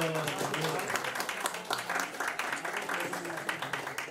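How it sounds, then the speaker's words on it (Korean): Audience applause fills a hall at a signboard unveiling ceremony for the March 1st Movement UNESCO Memory of the World registration committee, a steady patter of clapping running through the whole stretch with voices mixed in. "큰 박수 부탁드립니다."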